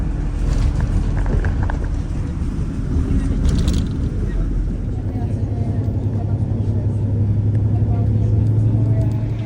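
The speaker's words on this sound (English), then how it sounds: "That's how easy it is to take the bus." An airport bus rolls along the road, a steady low rumble and engine hum filling the cabin continuously, loud and close, with occasional voices over it.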